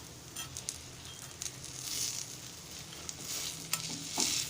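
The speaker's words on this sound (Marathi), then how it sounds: "आता आपण असं परतणार आहोत" Quiet sizzling and frying with occasional scraping strokes of a utensil stirring rice-flour ghavan batter layers on an iron griddle, close and fairly soft.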